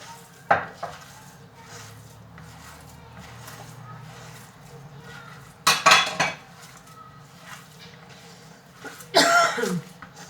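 Ingredients for a Hatay-style tray kebab are mixed with black pepper and salt in a metal bowl. A few loud clanks and scrapes of utensil on the dish stand out over a low, quiet background, and a cough is heard.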